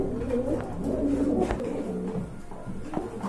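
Pigeons for sale coo softly against a continuous low background murmur, the calls overlapping in a soft, muffled burble at close range.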